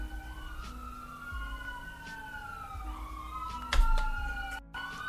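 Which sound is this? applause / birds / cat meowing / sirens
sirens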